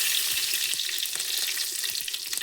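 Cumin seeds, mustard seeds and curry leaves sizzle and crackle steadily in hot oil, with scattered pops over a dense frying hiss that holds for the whole moment.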